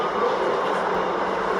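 A New York subway Z train rumbles steadily along the line toward Broad Street, a loud, unbroken roar heard from on board, with no talking.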